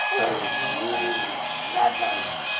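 Electronic beeping tones from a toy steering wheel ring out steadily, with a voice murmuring nearby.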